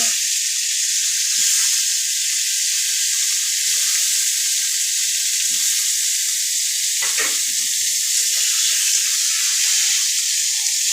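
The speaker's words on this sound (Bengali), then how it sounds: "এই যে বন্ধুরা এবার বেগুনটাকে ভেজে নিচ্ছি" Salted, turmeric-coated eggplant frying in a pan, a loud, bright, continuous sizzle close by with a brief clink partway through.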